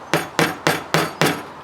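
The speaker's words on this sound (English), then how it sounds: "I'm going to hammer a nail into my workbench." A hammer drives a nail into a wooden workbench with five steady, evenly spaced blows, each a sharp close knock, with no talk.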